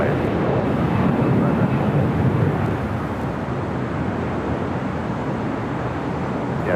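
Airliner departing from runway 25 right at Los Angeles LAX, a loud, steady broadband engine roar held for several seconds, easing slightly partway through.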